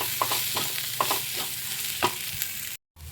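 A spiced coconut chutney mixture is stirred in a hot pan with a steady close sizzle and repeated scraping strokes, then cut off briefly near the end.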